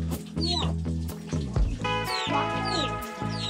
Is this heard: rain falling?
no